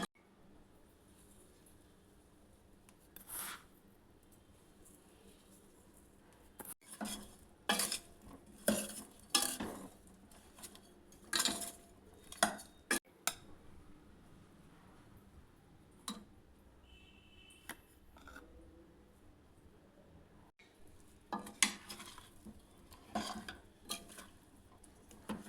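A spoon scrapes and clinks against a pot while ground spice powder is mixed into amla gooseberries for pickle, in irregular bursts of stirring separated by quiet pauses.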